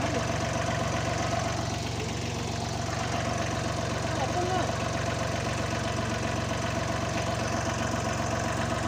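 Small tractor engine running steadily nearby with a constant low chugging drone throughout, outdoors near a tiger reserve forest.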